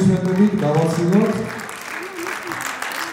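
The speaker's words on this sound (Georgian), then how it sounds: "კიდევ ერთი კუფარი აპლოდისმენტებით გავაცილოთ" Concert audience applauding at a children's ensemble report concert, a steady wash of clapping under a host's voice speaking over it.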